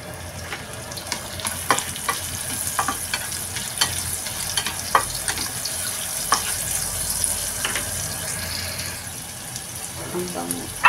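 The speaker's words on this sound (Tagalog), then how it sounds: "ito na yung butter. Lalagay ko na yung luya" Ginger sizzling and frying in butter in a pan for cooking mussels, a steady close crackle with occasional stirring clinks and light water sounds.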